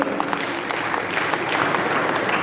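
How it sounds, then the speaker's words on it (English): An audience at a college technical session claps in a continuous round of applause, many hands blending into an even, moderately loud patter that runs for a couple of seconds. "giving a big round of applause"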